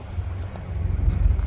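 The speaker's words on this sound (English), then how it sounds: "It's a little windy." Low, rumbling buffeting of wind against a microphone, steady and swelling slightly louder toward the end, with no voices.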